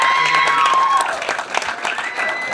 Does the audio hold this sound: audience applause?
yes